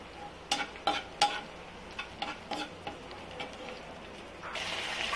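Onions sautéing in sesame oil for a village-style fish curry, a steady soft sizzle with a run of sharp utensil taps and scrapes against the pan, ending in a louder, brighter hiss.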